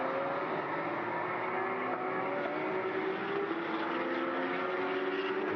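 Porsche Carrera Cup race cars scream around the Sepang circuit in a dense, continuous engine drone with rising and shifting pitch, loud and unbroken, with no voices.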